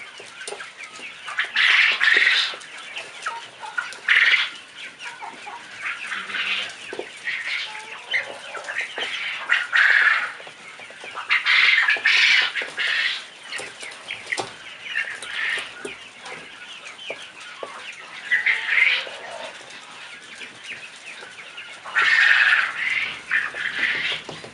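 Young chickens of various ages, hens and a rooster, cluck and squawk in repeated bursts over about 25 seconds. The calls are close and fairly loud, and there is no talking.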